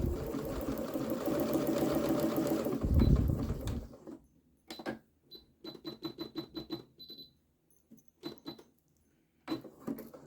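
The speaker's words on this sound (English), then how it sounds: "And I'm going to just zigzag stitch around the beak." A sewing machine zigzag stitches a scrappy Easter placemat, whirring rapidly and continuously at first, then stopping and restarting in short bursts of stitches separated by quiet gaps.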